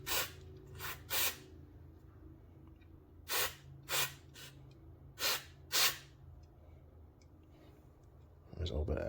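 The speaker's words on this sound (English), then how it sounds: "we'll spray this on the back part just to make sure there's not any corrosion" Short bursts of electronic cleaner sprayed onto the back of a PEM fuel pump module to clear corrosion: six sharp hissing puffs, some in quick pairs, close and loud over a low background hum.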